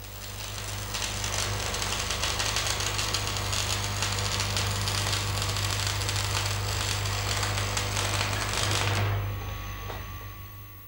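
Stick electrode arc welding gives a steady, dense crackling hiss that holds evenly for about nine seconds and then cuts off, leaving faint background hum.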